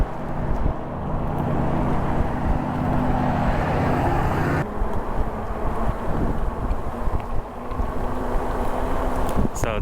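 Heavy wind buffeting a microphone while riding an e-bike, a constant loud low roar with gusty fluctuations throughout.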